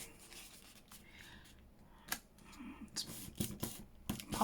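Scissors snip through a paper matchbook notepad in several short, crisp cuts, with light paper rustling and handling between them, close up and without speech.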